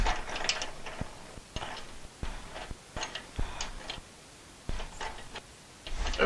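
A nut is tightened onto a lawnmower deck under a big washer, making a series of close clicking and metallic ratcheting strokes with short pauses in between, no talking.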